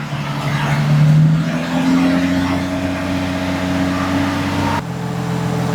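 A Nissan G35 in a drift build with a newly swapped engine, idling close by with the revs held steady and rising slightly, a loud continuous drone that drops in pitch near the end, with no talking.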